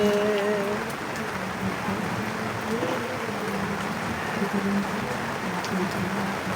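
Steady rain patters without letup over an open-air flea market in Angeles City, Pampanga, a dense wash of falling drops that fills the whole stretch, with faint voices underneath.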